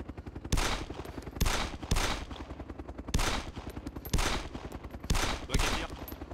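Automatic gunfire in the video game DayZ, with loud, rapid sustained bursts of shots that repeat in waves at close range and no talking over them.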